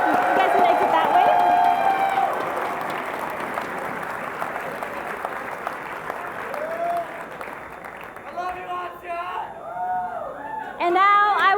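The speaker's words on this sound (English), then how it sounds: "Another round of applause, please." A crowd at the IPL4 esports event in Las Vegas gives loud, sustained applause that fills the room, with voices breaking through near the start and again near the end.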